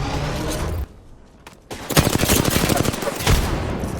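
Rapid bursts of video game gunfire crackle through the second half after a brief lull. The shots come in dense, overlapping volleys with a few louder cracks near the end, and a voice can be heard faintly.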